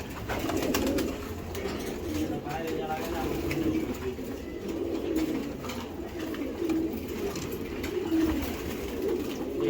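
Racer pigeons coo in a loft, a continuous chorus of low burbling calls from many birds close by over a dense rustling, flapping background.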